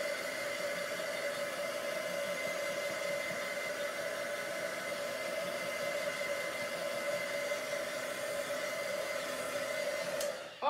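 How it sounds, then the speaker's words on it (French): A heat tool blows steadily and loudly to dry watercolor paint on a card front, a constant close whoosh that holds unbroken for about ten seconds before cutting off abruptly. "je vais passer un petit fer vite"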